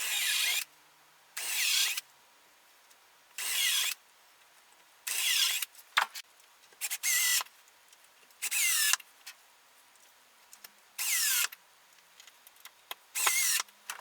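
A power drill drives screws into the top of a spoon mule attachment on a 2x4 shaving horse, with about eight short whirring bursts spaced by quiet gaps and small clicks between them.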